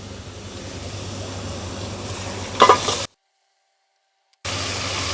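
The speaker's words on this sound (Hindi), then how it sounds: "अब इसको अच्छे से भून लेंगे ताकि इसका कच्चापन जो है ना लहसुन अदरक का, वो ख़त्म हो जाए।" Garlic and ginger paste fries in a pan with a steady close sizzle and a brief scraping stir, then cuts to silence for over a second before the sizzle resumes.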